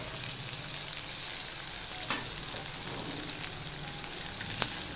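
Chopped onion hits hot oil already seasoned with salt and turmeric, for a fish-roe dish, giving a dense, steady sizzle with occasional scraping stirs throughout and no talking.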